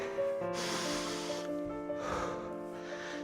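Three congested sniffs through a stuffy nose, each a breathy rush, over soft background music during a workout.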